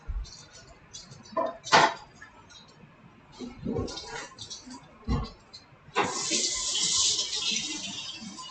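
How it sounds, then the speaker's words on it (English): A kitchen tap runs into a sink for hand washing during pie baking, a steady hiss that starts after some clattering and dish knocks and carries on to the end. "another quick hand washing"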